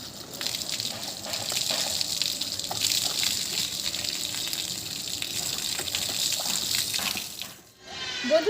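Water gushes steadily from a tap or shower while hair is being washed with shampoo, a loud close rushing stream that runs on for several seconds, briefly dips near the end, then resumes.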